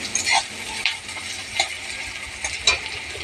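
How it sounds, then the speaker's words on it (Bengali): Onion and garlic frying in oil with a cumin tempering in a wok, a steady close sizzle broken by a few sharp stirring clinks and scrapes. "জিরে ফোড়ন দিয়ে পেঁয়াজ রসুন ভাজতে দিয়েছি"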